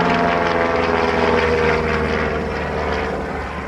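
A light propeller aircraft with big flaps and a slow stall speed flies past at an air show, its engine droning loud and steady throughout, easing slightly toward the end.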